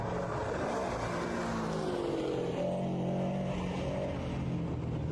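Subaru BRZ charging through an autocross course, its engine note droning steadily and rising and falling with throttle, heard loud and continuous throughout with no talk.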